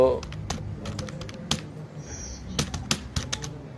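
Someone types on a computer keyboard while drafting in AutoCAD, with irregular bursts of close key clicks and a short pause in the middle.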